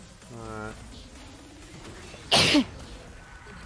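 A sudden, loud burst partway through, during a League of Legends match, with a short voiced tone just before it, fitting a sneeze caught on an open mic.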